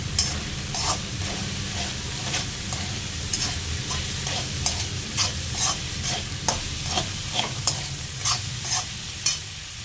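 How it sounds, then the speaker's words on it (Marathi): Leftover cooked rice mixture seasoned with pav bhaji masala sautés in a pan, a steady close sizzle broken by repeated scraping stirs of the spatula in an uneven rhythm, with no voices. "आणि चांगलं परतून घ्यायचं."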